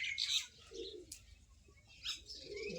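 Village pigeons coo and flutter nearby, soft repeated calls with a brief wing flap, faint and alone.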